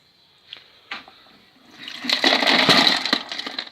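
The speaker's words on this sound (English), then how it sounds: "And then we're going to empty the stones into the sieve." Tumbler stones and muddy water are poured into a sieve: a couple of clinks first, then a swelling rush of splashing water and rattling stones that runs loud and close for the last two seconds.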